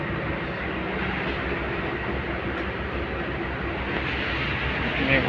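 Broadband rumble and rush of a moving train heard from inside an empty, rain-soaked passenger carriage, a steady continuous roar with faint rattles throughout.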